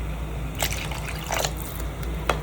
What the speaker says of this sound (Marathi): त्यामध्ये आता आपण पाणी टाकून घेऊया